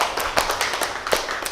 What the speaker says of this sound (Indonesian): Tepuk tangan buat Fajar